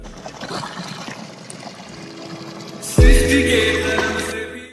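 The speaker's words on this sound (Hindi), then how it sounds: "आप आवाज़ सुनते होंगे कि पानी की आवाज़ ऐसी आ रही है, जब मैं आपको नज़दीक से पानी गिरता हुआ दिखाता हूँ" Water falling near a hillside spot in Uttarakhand, a steady trickling wash that swells suddenly halfway through into a louder, closer rush with a low rumble, no voices.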